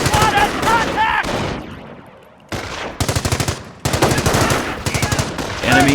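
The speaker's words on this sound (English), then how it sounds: "Taking rifle fire!" In the Company of Heroes tutorial battle, rifle shots and rapid machine gun bursts crack in dense volleys. One gap lets a rumble fade out before the firing resumes in sharp repeated clusters, and a radio-style voice briefly calls out.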